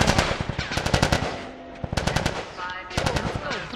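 Rapid automatic gunfire from The Last of Us video game during a Firefly attack, loud close bursts of shots with short pauses between them and a faint voice underneath.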